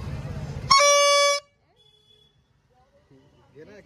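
A small toy car's horn blares once in a loud, sustained electronic honk lasting under a second, followed by near silence before a voice starts speaking close by.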